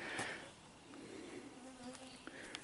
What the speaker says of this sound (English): There's the bugs I'm talking about.